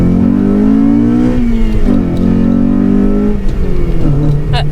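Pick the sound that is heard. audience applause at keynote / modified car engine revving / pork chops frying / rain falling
modified car engine revving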